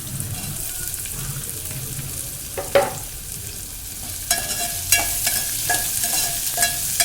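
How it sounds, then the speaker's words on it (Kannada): Chopped onion frying in hot oil with browned urad dal in a pan, a steady close sizzle broken by a few sharp scrapes and clinks of a spoon stirring, no talking. "ಇದು ಸ್ವಲ್ಪ ಕಲರ್ ಚೇಂಜ್ ಆಗೋ ತನಕ ಫ್ರೈ ಮಾಡಿ"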